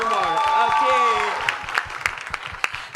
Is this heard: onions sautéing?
no